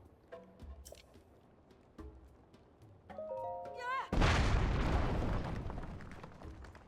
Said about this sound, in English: Let me end this with an explosion.